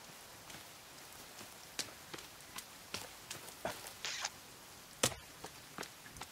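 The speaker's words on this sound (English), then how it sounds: "Actually, the rain isn't washing anything off." Rain in the survival video game The Forest falls as a quiet bed of patter, broken by scattered sharp drop taps at irregular intervals.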